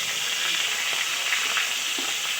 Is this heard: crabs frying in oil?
yes